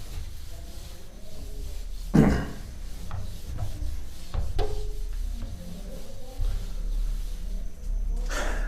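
A duster rubs writing off a classroom board in a series of uneven scrubbing strokes, some sharp and loud, others soft, over a low room hum.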